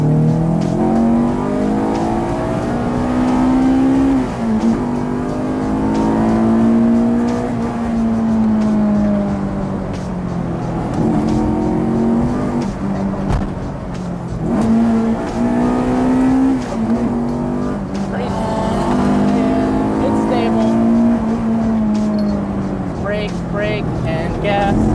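A front-wheel-drive Honda CRX with a B16 engine and no limited-slip differential, driven through sweeping mountain turns: the engine revs climb and fall repeatedly, loud and close, with someone talking over it.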